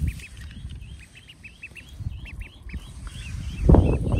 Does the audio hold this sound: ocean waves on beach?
no